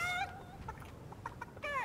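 A chicken in Fortnite, played on Nintendo Switch, squawks at the start, gives a short run of quick, close clucks and ends on another rising squawk.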